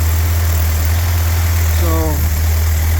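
A rebuilt 1948 Willys spare engine idles steadily in a close, continuous low drone, with a brief faint rising tone near the end.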